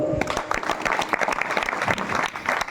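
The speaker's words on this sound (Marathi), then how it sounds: "आमच्या चोपदार दादा बाबांसाठी एकदा टाळी वाजव." Crowd clapping at a kirtan during a week-long devotional gathering in Mendka, a busy, fairly close patter of many hands that holds steady throughout.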